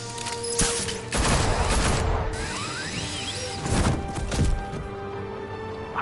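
Gunfire in Batman: The Telltale Series comes as rapid volleys of sharp shots mixed with crashes and whooshes. It is loud and close, with a brief lull between bursts.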